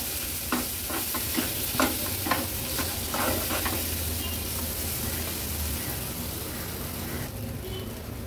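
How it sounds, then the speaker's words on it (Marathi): Agri Koli masala chutney being sautéed in oil on a stove for a minute or two: a continuous loud sizzle and hiss, with a run of scraping stirring strokes early on, and no speech. "आता व्यवस्थित ही चटणी तेलावर थोडीशी परतून घ्यायची 1-2 मिनिटासाठी"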